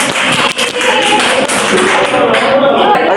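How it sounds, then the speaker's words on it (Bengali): Dense applause from a spoken English class fills the room, many hands clapping steadily and loudly throughout, with scattered voices mixed in beneath. "ভেরি গুড, হাততালি হোক তাহলে।"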